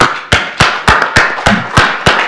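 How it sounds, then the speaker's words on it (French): Slow, evenly spaced claps, about eight sharp close hits in a steady rhythm, sound alone with no voices, in a lecture-hall setting where a presentation has just ended. "j'invite la salle à vous applaudir à nouveau"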